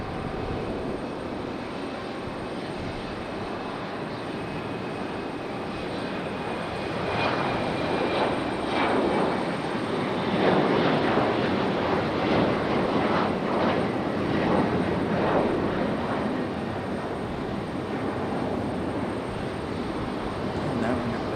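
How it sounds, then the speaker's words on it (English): AeroMexico airliner taking off in gusty wind at Raleigh-Durham International Airport, a broad continuous engine roar that swells to a peak midway and then eases slightly, steady and moderately distant, with wind noise mixed in. "Wind has increased quite a bit. Hopefully AeroMexico will rotate early."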